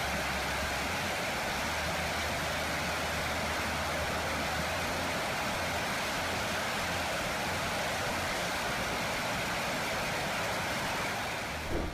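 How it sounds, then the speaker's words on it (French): A jet engine on an afterburner ground test at a military maintenance site produces a constant, very loud broadband roar that holds steady and unbroken for the whole stretch, with no voices. "le rugissement de la turbine est si fort que tu pourrais devenir sourd"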